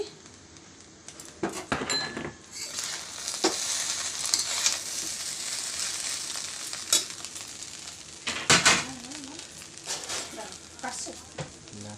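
Raisins and cashews frying in a pan give a steady sizzle with bursts of stirring and scraping. A voice is heard faintly now and then.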